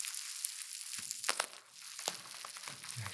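Crunchy crinkling squeezes of small fabric hacky sack juggling balls, close and quiet, a few soft crushing bursts in a still room with no talking.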